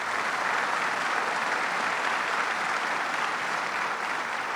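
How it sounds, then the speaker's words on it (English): An audience at a Rochester airport event applauds the mayor with a steady, loud wash of clapping that holds evenly throughout. "Let's give her a round of applause."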